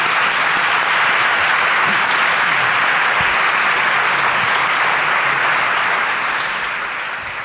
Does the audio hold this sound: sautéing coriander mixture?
no